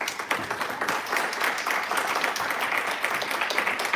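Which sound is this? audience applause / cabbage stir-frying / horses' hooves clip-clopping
audience applause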